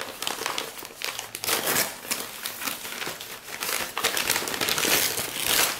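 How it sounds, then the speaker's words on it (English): Loud, continuous crinkling and crackling of plastic packaging being unwrapped from purchased orchids, with bursts of rustling and crumpling close by. "Okay, while I'm unwrapping this one"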